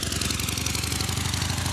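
An old 8 horsepower 670cc Peugeot Frère engine in a vintage car chugs steadily at idle, a rhythmic low putter running without pause, close and fairly loud.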